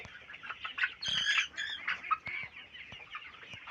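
Chickens and a rooster clucking on a Sonali hybrid poultry farm, a close, busy chorus of overlapping clucks and squawks with a louder burst of calls near the middle, no talk.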